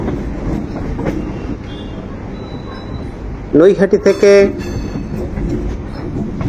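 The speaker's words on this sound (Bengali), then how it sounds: "ট্রেন এখন ব্যান্ডেল জংশনের 7 নম্বর প্ল্যাটফর্মে ঢুকছে" Loud, steady rumble of a local train rolling along the tracks into Bandel Junction, with a short burst of chiming horn-like tones midway and someone speaking over it.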